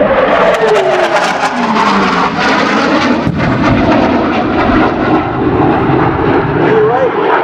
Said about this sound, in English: To your right, you'll see the F-18 Hornet section once again approaching.